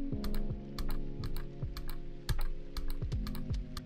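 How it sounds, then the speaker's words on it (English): Clicks of a gaming mouse with a double-click button fire in a steady series, about a dozen sharp close taps spaced irregularly, each one crisp and loud with no voices. "you could probably hear me only clicking once"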